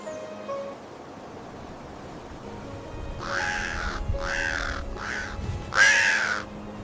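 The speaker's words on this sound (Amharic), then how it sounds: "በአንድ ወቅት ቁራ በህይወቷ ደስተኛ ስላልነበረች ዛፍ ላይ ተቀምጣ እያለቀሰች" A crow in an animated story gives four loud, harsh caws in quick succession, clear over a quiet background with no talk.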